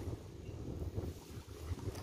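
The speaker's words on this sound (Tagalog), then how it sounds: "Malakas ang hangin." Strong wind at sea buffets the microphone during net fishing, with a low, continuous rumble and gusting roar; no voices, faint water movement beneath.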